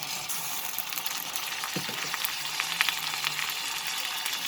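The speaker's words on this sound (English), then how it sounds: "I will cook the masalas properly in this oil." Tomatoes and masalas with Kashmiri red chili powder and turmeric sizzle steadily in hot oil for a cabbage and peas dish, a dense continuous frying hiss with a few soft stirring knocks.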